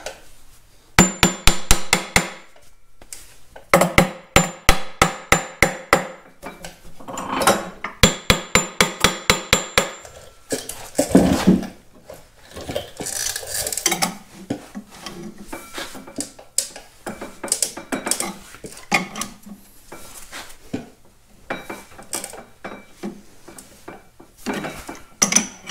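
Steel hammer blows ring out against the rusty, stuck steering clutch of a Caterpillar D2 dozer, rapid bursts of sharp metallic clangs in quick runs, then scattered knocks, scraping and lighter taps, close and loud with no talking.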